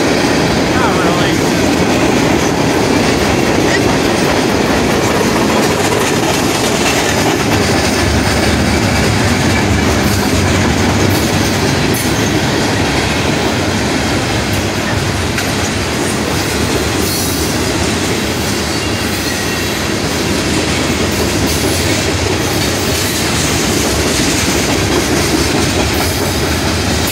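A westbound train rolls past a road crossing at State Route 19 in Kingsway, Ohio, a loud sustained rumble of rail cars with clattering wheels and occasional squeals, filling the whole stretch, with faint voices underneath.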